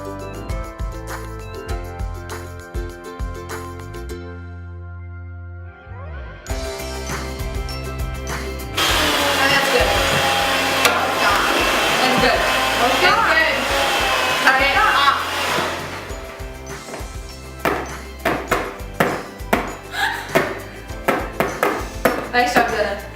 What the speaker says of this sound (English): plug your handheld mixer in